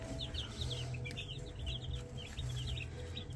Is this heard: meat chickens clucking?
yes